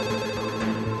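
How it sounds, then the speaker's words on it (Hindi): A telephone rings steadily and fairly loud through a short moment, a continuous electronic ringing tone with no voices over it. "हमारी फोन लाइन रुकने का नाम नहीं ले रही थी।"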